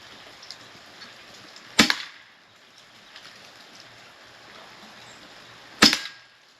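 Two sharp, loud shots about four seconds apart from an AEA .30 caliber HP SS Plus semi-auto air rifle firing FX hybrid slugs outdoors, each a crisp crack with a short tail and quiet ambience between.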